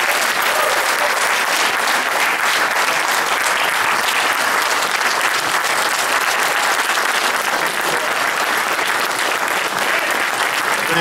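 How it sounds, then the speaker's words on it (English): A large audience at a book signing event with former New York mayor David Dinkins claps loudly and continuously, a dense, sustained roar of applause with no pause. "We want to give Mayor Dinkins a round of applause."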